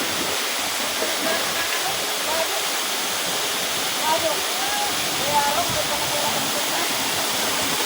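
Busay Falls in Balatan, Camarines Sur roars steadily as water plunges from above into a bathing pool, a loud continuous rushing wash with faint voices of bathers mixed in.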